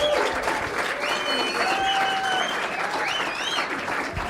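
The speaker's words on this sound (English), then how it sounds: "So give Michael a big round of applause," A live podcast audience gives a round of applause, a continuous, moderately loud crowd clapping that stays steady for the full stretch, with a few cheers and faint voices mixed in.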